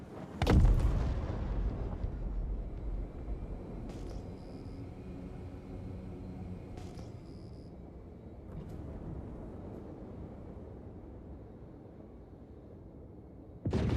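Heavy weapons fire in the space combat game Star Citizen opens with a loud booming blast, then settles into a low rumbling roar with a few sharp bright impacts, ending on another strong hit.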